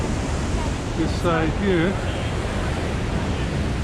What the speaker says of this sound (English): The water coming down there.